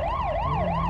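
Police car siren in the GTA 5 LSPDFR video game, a loud, close wailing tone sweeping up and down in a smooth repeating cycle over the engine rumble, with no talking.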